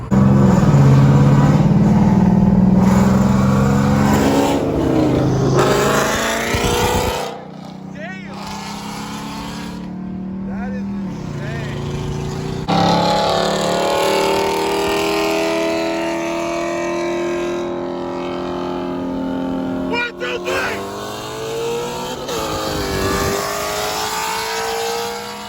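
Tuned cars at a car meet, among them a stock 2021 Supra with a downpipe: loud engine roar and revving that drops, then rises again in rising sweeps, with people talking over it throughout.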